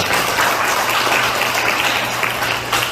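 A lecture audience at a talk on the nuclear energy industry applauds the lecturer with loud, close, continuous clapping from many hands, steady throughout.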